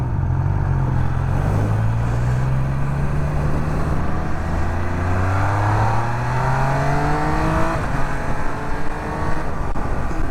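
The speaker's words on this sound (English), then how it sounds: "The sound of this bike is actually really good for having stock pipes." Triumph Speed Triple 1200 RS motorcycle with stock exhaust pulling hard through the gears, its engine note climbing in steady rising sweeps with a shift midway, loud and close over constant wind rush.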